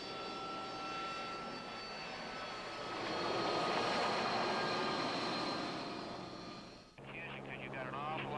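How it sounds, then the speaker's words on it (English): Marine KC-130 tanker aircraft engines drone steadily with a swelling roar in the middle, while a narrator speaks over them and music enters toward the end. "Once airborne, they hooked up with aerial refueling aircraft, such as these Marine KC-130 tankers."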